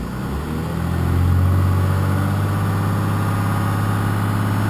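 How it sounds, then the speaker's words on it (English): A Cummins 6.2L diesel engine idles high with its fuel screw turned all the way in, a loud, steady, close drone that rises slightly at the start and then holds level. "it's idling high because I got the fuel screw in all the way"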